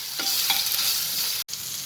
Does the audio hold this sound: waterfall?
no